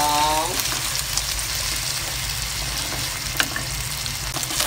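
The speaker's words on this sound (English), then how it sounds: "Stir fry all." Hokkien mee yellow noodles and eggs are stir-fried in a wok with a steady, close sizzle and a few light scrapes, with no talking.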